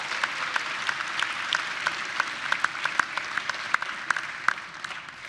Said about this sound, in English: Could you please give them a round of applause and say thank you and welcome?